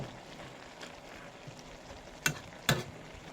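Beef with pickled bamboo shoots, holy basil and dill being stirred in a pan, a soft continuous sizzle broken by two sharp scraping clacks of the utensil near the end.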